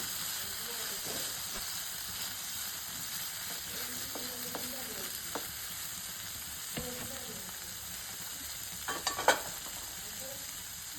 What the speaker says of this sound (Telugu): ఇప్పుడు మూత పెట్టుకొని ఒక 2 నిమిషాలు ఉడికించుకుందాం. మధ్య మధ్యలో కలుపుకుంటూ ఉండండి,